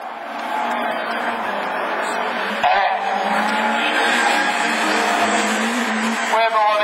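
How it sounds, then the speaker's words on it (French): Honda rallycross race car in the Division 4 class of the French rallycross championship, engine roaring loud and steady at speed with a brief tire scrabble midway, under continuous commentator talk. "La Honda de Bezard."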